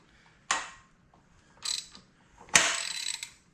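A stuck valve snapping free inside a seized 1970 Honda CL100 engine being worked back and forth, heard as three close, sharp mechanical clicks and ratcheting snaps with short gaps, the last one longest.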